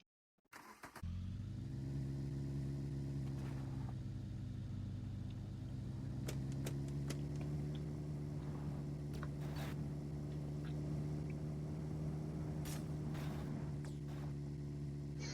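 Engine of a vehicle in The Long Drive video game starts up and settles into a steady, droning run, a constant close hum with a few faint clicks and knocks over it.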